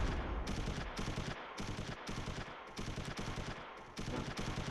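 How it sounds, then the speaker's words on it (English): Continuous rattling gunfire from the Close Combat III strategy game, dense bursts of rifle and machine-gun shots firing almost without pause, loud and close, with brief gaps between volleys. "Lots of bullets flying in there."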